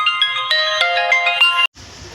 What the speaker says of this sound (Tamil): அது ஒன்றும் இல்லை, ஒரு ஃபோன் கால் வந்துருச்சு.